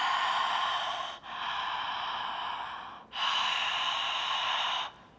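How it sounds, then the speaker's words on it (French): Ujjayi yoga breathing: long, steady breaths are drawn through a slightly constricted throat with the mouth closed, making a soft, even hissing rush, close and alone, in two sustained strokes broken by a brief pause. "Cette respiration Ujjayi, c'est exactement cette même contraction dans les cordes vocales, sauf qu'on le fait avec la bouche fermée."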